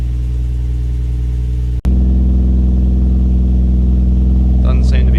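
A Toyota 1JZ engine idles on a cold start after a coil pack change, a loud, steady, close rumble that holds even throughout with one abrupt momentary dropout.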